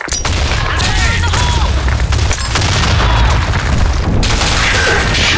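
A loud, booming grenade blast in an online shooter game, with dense crashing and gunfire-like bursts layered over continuous game noise and player chatter.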